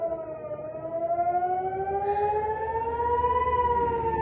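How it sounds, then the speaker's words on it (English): A civil defense siren wails out in the street, its rising and falling tone steady and loud, sustained with harmonic layers for the whole stretch with no talking. "So another siren just happened on the road in the middle of the street."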